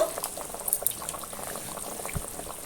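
Fish curry gravy for doi katla bubbles at a steady boil in a pan, soft popping and gurgling close by, fairly quiet with no voice.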